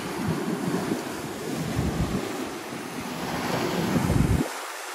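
Sea waves washing in at a small cove near Sète, a continuous close rush of surf mixed with wind buffeting the microphone, cutting off abruptly at the end.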